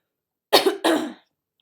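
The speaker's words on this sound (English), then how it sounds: "I have to clear my throat." A woman clears her throat in two quick, harsh bursts close to the microphone, followed by silence.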